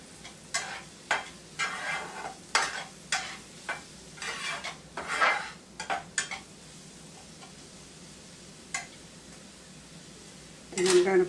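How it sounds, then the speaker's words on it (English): Utensil scraping and stirring onions in a pan, a series of short clattering strokes over a faint sizzle, close by, then a pause and a louder burst of scraping at the end; no talking. "Let me stir our onions around over here."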